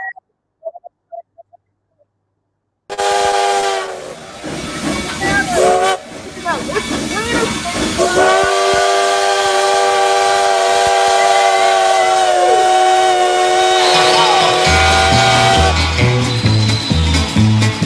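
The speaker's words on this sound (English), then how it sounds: "I hear the train a-comin', it's rolling around a bend" After a near-silent start, a train steam whistle sounds: loud, sustained, tonal wails with breathy steam hiss, shifting in pitch over nearly fifteen seconds, then a rhythmic chugging pulse.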